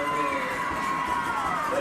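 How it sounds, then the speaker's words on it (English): Crowd noise at a high school football game between Union Grove and Big Sandy, a steady loud roar of spectators building as the field goal unit lines up, with cheering and shouting throughout. "The crowd getting loud."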